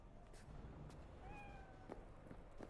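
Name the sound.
cat meowing in video game Cyberpunk 2077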